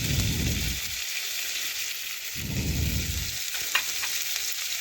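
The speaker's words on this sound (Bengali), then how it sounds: "আমি লবণ দিচ্ছি না, তেল দিয়ে একটু ভেজে পেঁয়াজটা একটু নরম করে নেব।" Onion and tomato frying in oil in a pan, a steady bright sizzle with two bursts of stirring and scraping, close and fairly loud with no talking.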